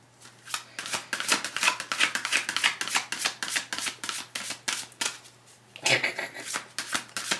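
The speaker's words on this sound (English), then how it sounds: "apparently my shuffling is bothering her" Repeated riffle shuffles of a card deck, crisp rapid flutters in short bursts with brief pauses between, close and clear.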